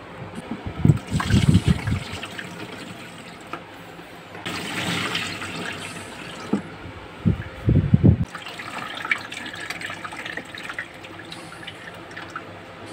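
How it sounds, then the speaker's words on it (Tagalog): Water pours and gushes into the tank of an electronic-type air cooler in bursts, splashing loudly with dripping and trickling between pours, close by and with no talking. "Bago natin pagganahin ay lalagyan muna natin ng tubig ang ating water tank."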